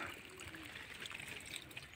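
Irrigation water trickles steadily and faintly into a vegetable garden plot planted with coriander, radish, onion and spinach, a soft continuous flow with no voices.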